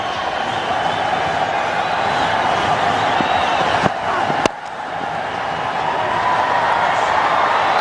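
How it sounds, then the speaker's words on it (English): Stadium crowd at a cricket match roars and cheers steadily for Tendulkar as he scampers a single, a dense, loud wall of voices filling the air throughout, with a couple of sharp knocks partway through. "Listen to the crowd."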